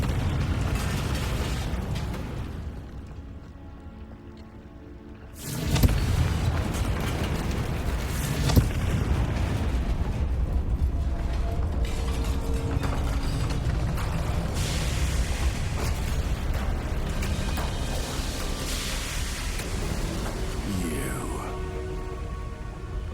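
Spell explosions from Bombarda and Confringo burst in Hogwarts Legacy, with booming blasts followed by rumbling debris and a dense, continuous layer of in-game noise and music.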